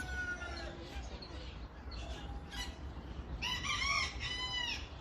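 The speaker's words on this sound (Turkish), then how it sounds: "İki tane horoz var." A Shamo crossbreed rooster crows twice near the end, loud and close, over a steady background hum on a farm.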